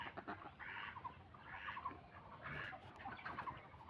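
A flock of laying ducks, about 180 hens and 22 drakes, kept in an enclosed shed, heard as a steady mass of overlapping quacks and clucking calls that swell in repeated bursts over a constant background murmur.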